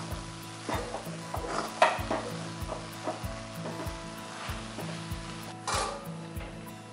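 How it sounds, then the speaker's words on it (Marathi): Wheat flour being stirred into jaggery water in a kadhai, a rhythmic series of scraping spoon strokes against the pan over a soft sizzle, close and steady with no talking. "पीठ छान मिक्स करून घेऊ आपण"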